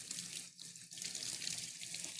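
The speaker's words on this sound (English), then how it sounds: "I'm going to rinse my hands real quick." A kitchen faucet runs steadily into a sink as hands are rinsed during chicken tikka masala cooking, a constant close hiss of water with no talk.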